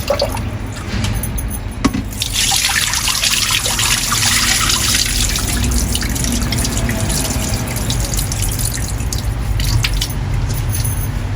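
Water runs and trickles steadily as rice is rinsed in a pot while cooking a home meal, with a sharp clatter near the start, then a continuous splashing, dribbling wash close by, no talking.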